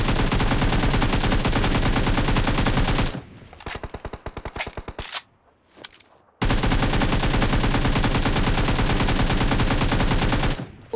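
AKM assault rifle in PUBG Mobile, long sustained automatic bursts of rapid close gunfire, broken in the middle by a short run of separate shots and a brief silence, then another long continuous burst.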